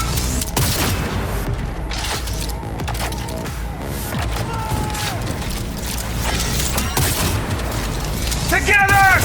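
A burst of rapid gunfire and booms during a firefight in the game Cyberpunk 2077: Phantom Liberty, loud and continuous, with shouted voices over the shooting.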